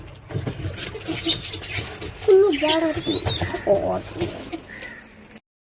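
Pigeons coo softly nearby amid rustling and fluttering, with a voice talking intermittently over them.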